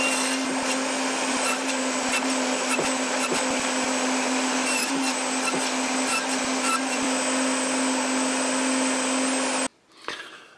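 A table saw runs loud and steady with a constant motor whine and a dense rasp of cutting through wood, then cuts off abruptly, leaving a short, quieter stretch with one faint knock.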